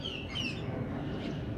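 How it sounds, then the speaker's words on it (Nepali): Parrots give a few high chirps over steady low background noise, fairly faint and with no talking. "सुगी चराहरू"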